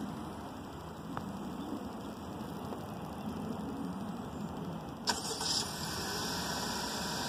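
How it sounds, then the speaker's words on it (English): A 2018 Honda Accord push-to-start car starting by remote start, a low steady engine hum with a sharp click and brief surge midway, then settling into a constant idle; no speech. "You can activate the remote start by pressing the lock button 3 times."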